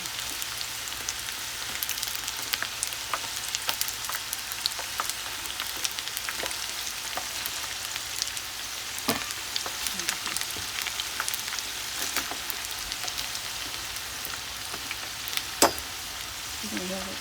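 Cauliflower pieces for Gobi Manchurian fry in hot oil with a steady, quiet sizzling hiss, broken now and then by sharper crackles and pops.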